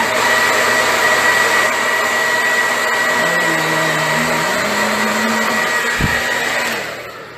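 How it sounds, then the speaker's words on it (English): A blow dryer runs steadily and close for about seven seconds, drying scorpion face war paint on a professional wrestler. Its pitch wavers partway through and the whine shuts off at the end. "But I use a blow dryer"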